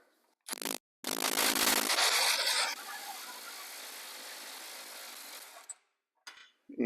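A 16mm 6-point socket loosens a front control arm nut on a 2012 Mercedes S550. A sharp short burst comes first, then a loud grinding run that settles into a steadier whir for several seconds before cutting off.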